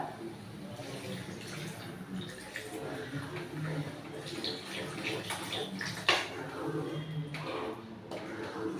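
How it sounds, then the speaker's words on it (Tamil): Water pours and splashes into a cooking pan while making crab gravy, with some clinking and a sharp knock midway, under a low murmur of background voices. "தண்ணி ஊற்றுவோம்ல"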